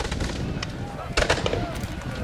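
Cannon fire at a War of 1812 Battle of Chippawa re-enactment on the original battlefield: a single dull distant boom rises partway through, over a constant outdoor rumble.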